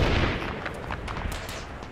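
Machine gun fire in the video game Arma 3 during a jungle island assault, a dense rolling wash of distant gunfire and booms with rapid crackling shots layered on top.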